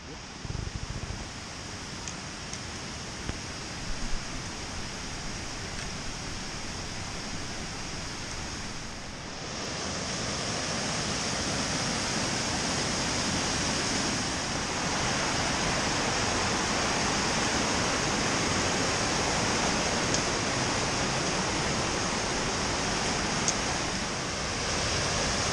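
Rushing stream water in White Oak Canyon gives a broad, steady roar that thickens partway through as hikers cross the water, with wind buffeting the microphone.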